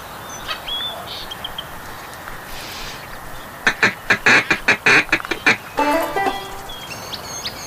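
Duck calls and bursts of quacking from the Duck Dynasty hunting video game, a rapid run of loud quacks mid-clip followed by a longer drawn call, with faint chirps and ambience around them and no talking.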